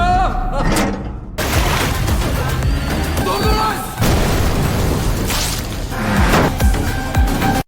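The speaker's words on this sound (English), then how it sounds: "Marco left Peter to die in a brutal explosion inside a shipping container" Loud booming blasts and crashing impacts from an explosion inside a shipping container in an action movie, a sudden burst after a quiet start followed by repeated heavy hits and rumbling debris.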